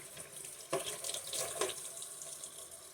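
Tap water runs steadily from a faucet into a sink while conditioner is rinsed out of Bratz dolls' hair, the flow splashing a little louder in a few brief surges, with no voices.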